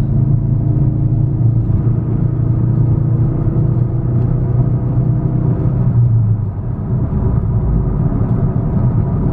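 A Ford Focus RS engine pulling flat out in fourth gear, a loud sustained rumbling drone from inside the car that rises steadily, then eases slightly near the end, with no talking.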